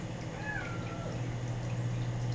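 A house cat gives a single faint meow over a steady low hum and background noise.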